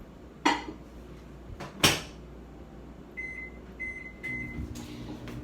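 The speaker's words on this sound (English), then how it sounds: "I'm going to put this back in the microwave for a few seconds" A door clunks shut twice, then a low-power microwave's keypad beeps a few times before the oven starts up with a low steady hum.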